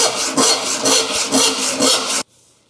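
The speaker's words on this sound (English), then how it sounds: "the kerf is kind of pinching the saw, and that's giving a lot of friction" A hand saw cuts through a wooden board with the kerf pinching the blade, giving loud, rhythmic rasping strokes of heavy friction, about five close pushes in a row, before stopping abruptly into near silence.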